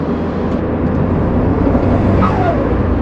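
A modded Ford Fiesta ST engine on the open road, a steady loud drone filling the whole clip, with a brief rising note near the end as revs climb.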